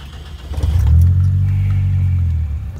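Chevette OHC turbo car fitted with an HKS valve accelerates with a deep swelling engine roar, rising then holding a strong steady drone through the pull.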